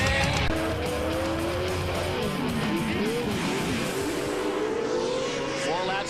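Pro 2WD off-road race trucks on a dirt track roar continuously, engines rising and falling as they shift and corner, with tire squeal and loose-surface skidding mixed into a dense, loud wash.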